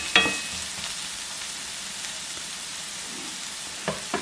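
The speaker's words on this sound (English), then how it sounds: "I'm gonna add this yellow pepper right here. And let this yellow pepper cook." Yellow pepper, finely chopped, sizzles steadily in a pan for a Gobi Manchurian stir-fry, a continuous frying hiss with a couple of soft stirring clicks near the start and end.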